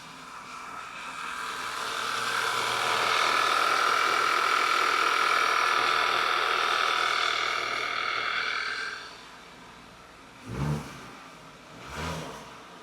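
A 2012 Audi A5 misfires after new spark plugs and coils, its engine note a rough, droning whine that swells for several seconds, then drops away, followed by two short separate bursts.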